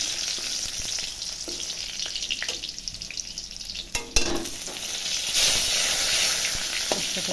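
Dry red chillies and spices crackle in hot oil as a tempering for dal, a loud continuous sizzle with a sharp burst partway through, then a brighter, hissier frying sound.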